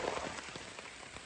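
Heavy storm rain in Vang Vieng, Laos, a dense steady hiss of drops pattering on surfaces with scattered louder splats, close and continuous with no voices.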